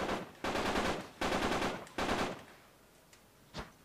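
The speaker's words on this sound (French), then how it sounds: "il y en a déjà un qui me tire dessus" Enemy gunfire in the video game Uncharted 3: three loud, sustained automatic bursts in quick succession, then a quieter tail with a couple of faint single shots. No one speaks.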